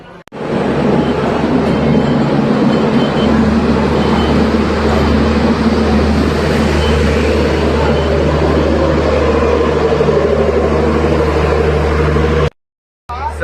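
A passenger train pulled by a goods locomotive arrives at a station, heard as a loud, steady low rumble with a deep engine drone and a rising whine near the end. The sound drops out briefly just before the close.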